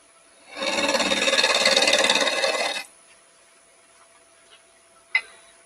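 A turning tool scrapes cherry wood on a lathe in one steady, fairly loud rasping pass of about two seconds, followed by near silence and a single faint tick.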